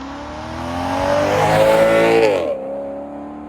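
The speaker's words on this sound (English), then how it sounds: "It's got a Ferrari-derived V8. There's nothing else on the road that sounds quite like it" A Maserati Quattroporte Sport GTS's Ferrari-derived V8 revs up with a rising, throaty roar, peaks loudly, then drops back to a steady idle burble.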